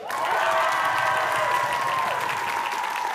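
A studio audience cheers and applauds loudly and steadily for about three seconds, a dense crowd roar with whoops on top, no single voice standing out.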